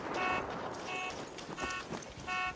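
Car alarm going off in the game ARC Raiders, a repeating electronic tone sounding in regular pulses over busy background noise.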